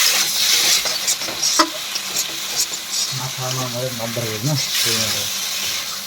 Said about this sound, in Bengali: দিয়ে হালকা করে নাড়াচাড়া করে দেবো